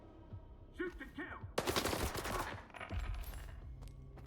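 Automatic gunfire in a video game erupts in a rapid burst of close, loud shots, with a few quieter pops leading into it and a faint voice heard early on.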